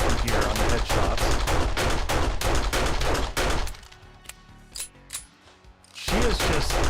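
Rapid gunfire from a weak gun in the video game 7 Days to Die, a dense run of loud evenly spaced shots for about three and a half seconds, a quieter gap with scattered clicks, then firing resumes.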